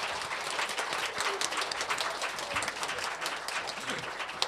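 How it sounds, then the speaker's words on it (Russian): Audience applause at a masterclass event, a dense, steady wash of many hands clapping continuously, moderately distant and fairly quiet throughout. "Аплодисмент Александру."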